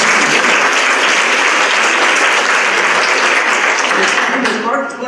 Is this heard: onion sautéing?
no